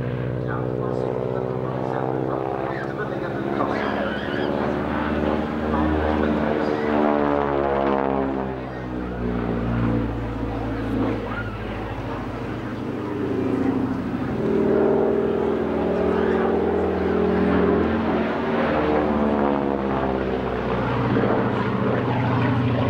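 A green SK-16 propeller aircraft, a former Swedish training plane, flies past at the Flygkalaset Jönköping air show in 2011. Its droning engine rises and falls steadily, with a commentator talking over it throughout.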